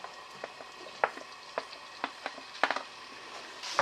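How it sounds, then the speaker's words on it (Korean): Abalone pieces stir-frying in sesame oil in a pan over raised heat, a soft sizzle broken by scattered sharp ticks and scrapes of stirring, fairly quiet and close. "볶아주세요."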